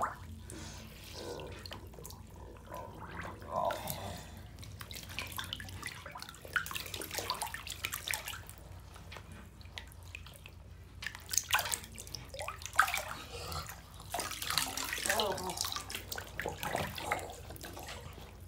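Water running steadily into a bath or shower, a continuous splashing and trickling wash with scattered drips and sloshes, close and moderately loud throughout.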